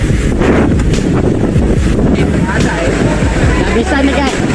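Strong storm wind buffets the microphone in a city park next to a large mosque in Kutacane, Aceh, a steady loud roar and rumble with low gusty thumps throughout, voices faintly present beneath.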